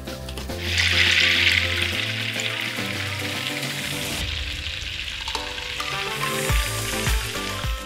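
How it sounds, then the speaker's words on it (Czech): Breaded wild boar schnitzels sizzle loudly in hot rapeseed oil with a little butter, a steady dense frying hiss with occasional clinks of utensils and background kitchen clatter. "A teď budete smažit do zlatova po obou stranách."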